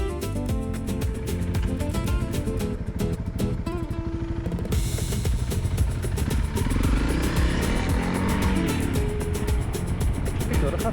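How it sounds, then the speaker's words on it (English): Offroad motorcycle climbing a mountain trail, its engine close and loud with a continuous pulsing rumble and shifting revs throughout. "you take that bike up a mountain"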